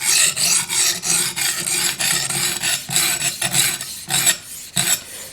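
A knife blade scraping in steady back-and-forth strokes across an extra coarse stone on a TSPROF guided sharpener while its edge is reprofiled, a loud continuous rasping with brief pauses between passes.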